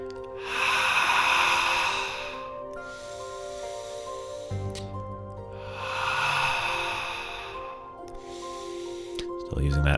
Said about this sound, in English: Exhale down to the center, inhale up.